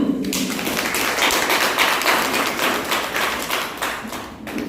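A seminar or health talk audience bursts into loud, sustained hand clapping, a dense crackle of many hands that holds steady for several seconds before tapering slightly at the end.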